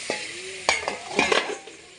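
Spice paste loosened with a little water from rinsing the mixer jar sizzles and fries in a pan while a spoon scrapes and stirs it in a few quick strokes, close up and steady.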